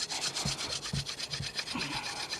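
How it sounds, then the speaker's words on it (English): Sharpened wooden stick rubbed hard back and forth in a cut wood groove to build friction heat for a fire, giving steady close scraping strokes about twice a second, with no talking. "Now we're creating friction. Hopefully the friction will become hot enough to start a fire."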